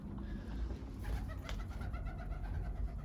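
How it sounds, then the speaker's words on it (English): Pigeons coo softly inside a steep cave entrance, a low repeated murmur over steady background rumble, with no talking. "We've got birds still in here."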